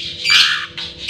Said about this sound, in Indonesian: Ini adalah silangan murai batu Medan dengan murai batu ekor hitam, alias kalau di sini terkenal dengan murai Nias